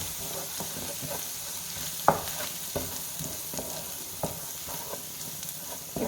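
Chicken curry with coriander and chili powder, about a kilogram of chicken, sizzles steadily in a pan, with repeated scraping stirs and a few sharp clinks of the spoon over a constant close frying hiss.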